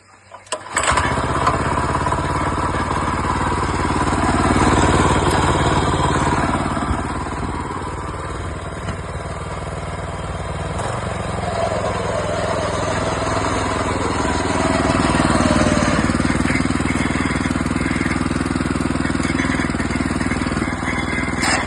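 A VVAE 7.5 HP power weeder fitted with blades, side discs and wheels starts up abruptly and then runs loudly and close by, its steady engine drone rising and falling slightly in pitch with no talking.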